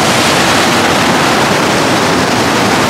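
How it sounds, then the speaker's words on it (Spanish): Ocean waves rolling onto a rocky fishing beach, a loud continuous broadband roar of surf close by with no talking. "Ahí pueden ver ustedes cómo vienen las olas."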